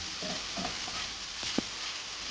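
Seasoned onion sizzles steadily in a paella pan, a soft continuous frying hiss broken by a few scraping stirs and a light clack.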